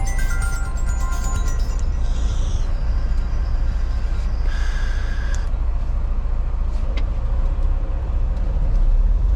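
A Fastenal truck passing along a road, a loud steady engine roar and tyre rumble close by, with brief higher tones early and midway as it goes past.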